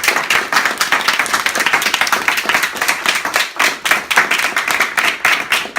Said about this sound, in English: applause for Sammy.